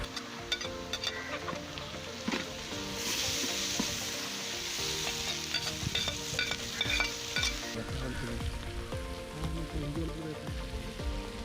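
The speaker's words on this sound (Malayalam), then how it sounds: "ഇതിലേക്ക് നമ്മൾ 10 പച്ചമുളക് നമ്മൾ ചതച്ച് വെച്ചിട്ടുണ്ട് ഇത് അതിലേക്ക് ഇടുകയാണ്" Crushed green chillies tossed into a pan of softened onions with oil, frying with a loud, crackling sizzle and repeated scraping stirs from a utensil, close up, with no speech.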